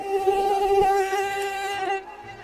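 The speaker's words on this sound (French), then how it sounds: "il y a ces putains de moustiques!" Mosquitoes buzz close to the ear at night, a loud, continuous high-pitched whine that wavers slightly in pitch and fades near the end, with no voices.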